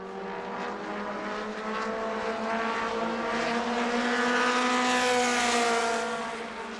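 Race cars lapping the New Smyrna Speedway in a weekly racing event: a loud, sustained engine roar that swells as the cars sweep past, peaking then fading slightly, with no voices.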